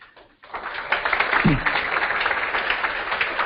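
An audience breaks into applause after a brief quiet moment, a full, sustained patter of many hands clapping close by, with a short low thump partway through.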